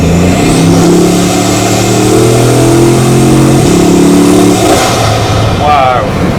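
A Bugatti Mistral, an open roadster with a fabric roof and 8-litre W16 engine, roars loudly and steadily under hard acceleration, its pitch climbing through gears before easing off near the end.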